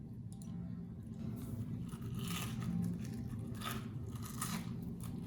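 Someone chews an air-fried onion ring up close, giving repeated crisp, crackly crunches and wet squishes in an irregular rhythm, fairly quiet and with no talking.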